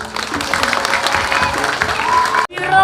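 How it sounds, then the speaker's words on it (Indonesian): Audience applause at a Balinese drama gong stage performance, a dense steady wash of clapping with crowd noise that cuts off sharply near the end, followed by a brief different sound. "Tepuk tangan."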